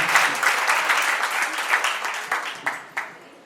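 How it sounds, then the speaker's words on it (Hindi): Audience applause at an MRM Group rewards and recognition program, dense clapping from a seated crowd that thins toward the end into a few louder scattered claps. "मेरे लिए ताली बजा दीजिए"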